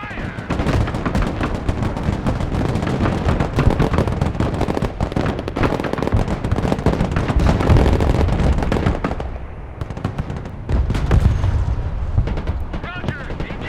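Loud, dense weapon fire and explosions from a modern military real-time strategy battle in Broken Arrow, a Baltic campaign, with rapid overlapping gunshots and booming blasts running continuously, easing briefly before resuming.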